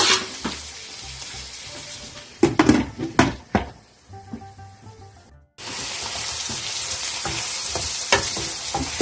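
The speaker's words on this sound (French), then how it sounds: "2 minutes également, les oignons et le haricot vert. Juste 2 minutes. On laisse ça sauter." Onions and green beans sauté in a pan with a loud, continuous sizzle close up. Clattering stirs break through midway, then the frying hiss returns strongly.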